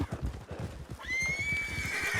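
A horse in the Red Dead Redemption 2 video game, hurt after running through a cactus, lets out a loud, drawn-out whinny over steady clip-clop hoofbeats, with the pained neigh sustained through the second half.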